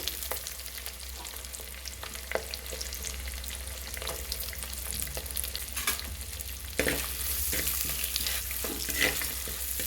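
Onions and green chilies frying in oil for chicken biryani give a steady close sizzle, with stirring scrapes and clacks scattered through it, growing a little louder near the end.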